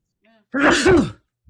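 A single short sneeze bursts out close and loud after a faint intake of breath, then quickly falls silent.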